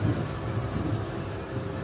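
Train pulling out of Chengalpattu station bound for Chennai Egmore, a steady low rumble and rolling drone throughout, heard from close by without talk.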